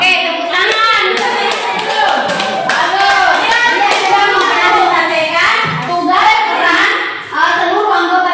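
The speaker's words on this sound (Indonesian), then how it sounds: "Oke, tepuk tangan." A class claps in a lively, patterned rhythm, many hands together and close by, with children's voices mixed in.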